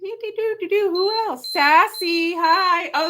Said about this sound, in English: that's my alarm going off to tell me to get on here